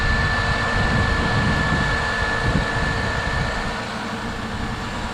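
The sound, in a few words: 2003 Toyota Highlander engine starting after alternator replacement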